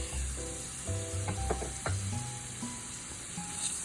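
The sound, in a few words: chopped onion sizzling in olive oil with garlic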